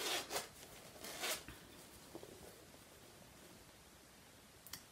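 A fabric zipper pouch is unzipped in two quick, soft rasping pulls near the start, followed by faint rustling of the fabric in a quiet room.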